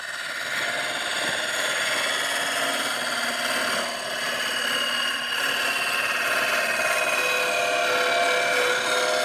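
Drill bit boring deep into timber, a steady grinding, rasping whir that runs continuously at close range with no talk over it.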